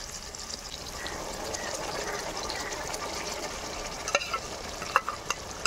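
Ginger-garlic paste frying in a pan with tomato, onion, curry leaves and green chillies for a traditional crab curry, a steady close sizzle with occasional stirring clinks and scrapes near the end, no talking.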